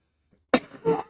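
A short, sharp sneeze close to the mic, followed by a softer second burst of breath, in an otherwise quiet room.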